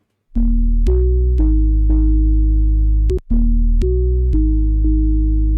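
A plain, sine-like synth bass for a remix, heard unprocessed: a run of about eight loud, clean sustained notes stepping between pitches, with a short break partway through, and no voices.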